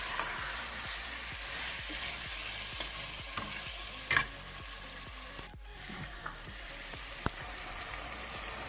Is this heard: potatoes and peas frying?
yes